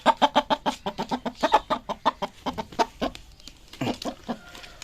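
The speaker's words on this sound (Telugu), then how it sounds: "కోడి గుడ్డుకొచ్చింది." A hen clucks in a steady run of sharp, evenly spaced calls before laying an egg, loud and close, then breaks into a few looser, quieter clucks near the end.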